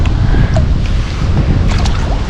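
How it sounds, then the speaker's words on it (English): Strong wind buffets the microphone in a loud, continuous low rumble, with faint splashing water in the background, outdoors while fall fishing. "It is really windy out still."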